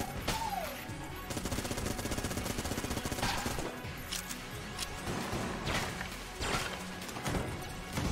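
The Predator homing gun fires in the Enter the Gungeon video game, rapid rattling bursts of shots with crashing impacts over dense game music, loud and continuous.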